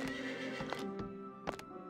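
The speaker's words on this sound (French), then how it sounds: "Ah, des chevaux" Horses neigh and whinny in short bursts over a steady background hum, with faint hoof clip-clops mixed in and no one talking.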